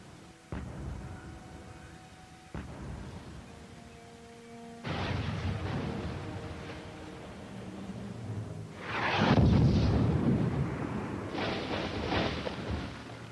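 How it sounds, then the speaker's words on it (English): Artillery shells bursting around a Japanese-shelled encampment in the video game Medal of Honor Rising Sun, a few sharp booms early, then heavier rumbling blasts with one large close explosion near the end. "The Japanese are shelling your encampment."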